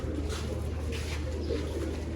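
A breeder pair of Zeera pigeons gives soft, low cooing at close range, steady and continuous over a constant low hum, with no talk.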